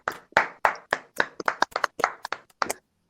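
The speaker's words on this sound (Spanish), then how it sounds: "Aplauso, por favor." An audience claps to welcome a guest, Luciano Saracino, in sharp, uneven bursts that sound like a small group or a few hands close by, lasting under three seconds and then stopping, with no talk.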